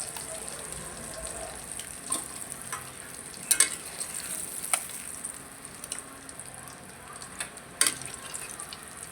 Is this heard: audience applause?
no